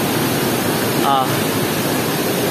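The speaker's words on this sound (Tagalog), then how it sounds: "kung makikita nyo yung mga bato, di ba ang daming tubig tumutulo" Water drips and pours from the rocks at Wawa Dam, a continuous loud rushing hiss with no distinct drops, and a voice briefly heard in the middle.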